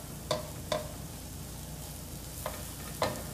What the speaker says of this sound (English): Look how nice these eggs cook up